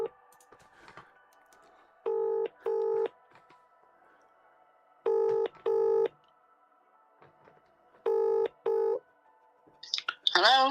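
A live phone call being placed: several short pairs of dialing or ring tones sound in clear repeated bursts, separated by quiet gaps over faint background hum, and a voice comes in briefly at the end.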